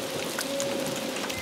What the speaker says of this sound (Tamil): ஆனா எப்பவுமே மழை பெஞ்சிட்டே இருக்கு.